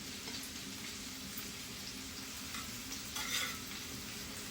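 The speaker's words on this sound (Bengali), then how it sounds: "রসুন ভাজা করে" Garlic fries in hot oil in a pan with a constant close sizzle, broken by a few scraping stirs.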